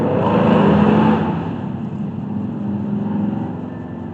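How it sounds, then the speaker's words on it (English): A group of about six motorcycles rides past outdoors, their engines a blended, moderately loud droning roar that swells early on, eases and then carries on steadily as the bikes go by. "There's another half a dozen motorcycles."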